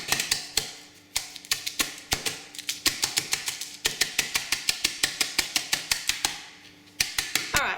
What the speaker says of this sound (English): I'm going to take either your knife or my scraper, and I'm just going to kind of chop it around